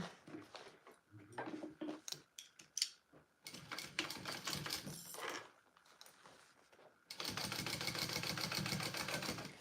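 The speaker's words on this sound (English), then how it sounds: "now we are going to top stitch along this top, and then we will be basting the bottom" A sewing machine top stitches along the upper edge of a mini bowler bag, with irregular clacks and short bursts first, then a loud, steady, continuous run for the last few seconds.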